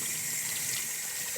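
Running water rinsing an elephant ear bulb, a steady bright splashing stream from a nearby tap or hose with no talking.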